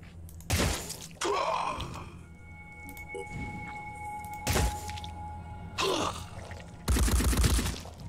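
A gunfire exchange in the Phoenix Point strategy game arrives as several loud, separate bursts of shots and impacts, spaced a second or two apart. A ringing tone hums beneath them between volleys.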